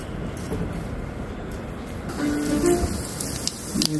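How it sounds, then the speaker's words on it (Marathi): Cumin seeds crackling in hot oil for a tempering, a dense, continuous spitting and popping sizzle heard close up that grows slightly louder toward the end, with no talk. "जिरं छान तडतडले."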